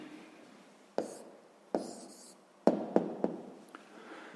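A pen writes a maths answer on paper by hand, close and soft, with a few sharp taps and short scratchy strokes.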